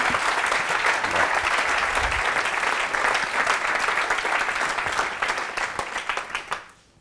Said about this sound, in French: Il faudra peut-être applaudir.